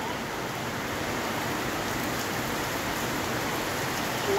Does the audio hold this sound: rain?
yes